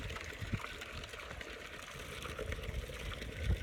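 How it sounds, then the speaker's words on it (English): A cheap DIY backyard water feature wedged into pea gravel trickles steadily at low level, a soft continuous splashing with a couple of slightly louder plops. "But that's our new water feature."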